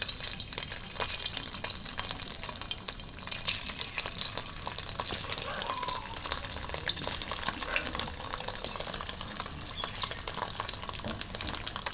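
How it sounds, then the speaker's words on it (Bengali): Paneer pieces fry in hot oil in a wok, a dense, constant crackling sizzle with rapid fine pops and occasional stirring scrapes, close and unbroken for the whole stretch. "আর পনিরটা ভেজে নেব, একটু লাল লাল করে ভেজে নেব হালকা।"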